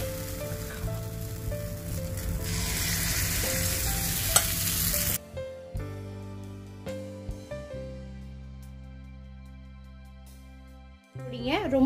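Banana and wheat batter sizzles steadily in a hot paniyaram pan for about five seconds, then the frying fades under a soft tonal background with a few light clinks.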